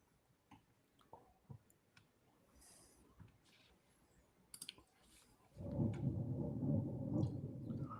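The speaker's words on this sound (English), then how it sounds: "Yeah, I just heard thunder here." Thunder from a real thunderstorm: a few scattered faint clicks and ticks at first, then a loud, sustained low rumble that swells in and keeps rolling to the end.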